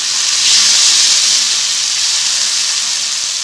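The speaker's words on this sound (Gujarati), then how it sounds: "તો બટર લીધું છે મેં, એમાં આપણે આ થોડી ભાજી એડ કરી દઈશું." Bhaji added to hot melted butter for masala pav sizzles loudly and steadily, a dense close frying hiss that swells early then holds evenly, with no speech.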